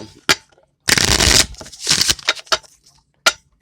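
Playing cards are shuffled up close in a few quick, crisp bursts of riffling and flicking, separated by short pauses.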